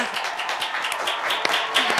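Audience applause at a celebrity meet-and-greet for a singer, moderate scattered clapping with a few sharper claps, fairly close, under light crowd noise.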